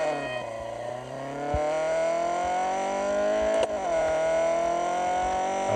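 A Ford Focus RS engine revs in the Real Racing 3 mobile racing game, a sustained rising drone with a brief gear-change dip midway, loud and steady throughout.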